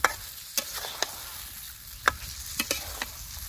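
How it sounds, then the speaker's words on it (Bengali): Chicken meat sautéed and stirred in a pan in a village kitchen: a soft, steady sizzle broken by sharp, irregular spatula scrapes and clinks against the pan. "মাংসটাকে খুব ভালোভাবে কষিয়ে নিব।"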